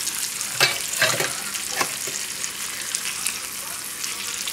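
Cajun Creole chicken tenders frying in a pan, a steady bright sizzle broken by a few louder crackling bursts as the pieces are stirred or turned, with no one talking.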